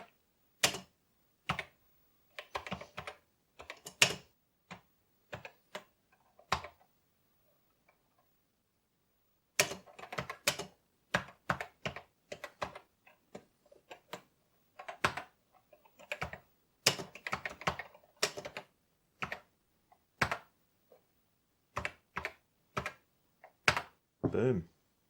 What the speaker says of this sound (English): Let's see if the keyboard works.